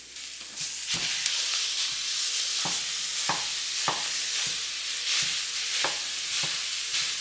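Ground beef sizzles in a pan with browned white onions, a loud, steady hiss broken by regular scraping strokes as the mixture is stirred and broken up.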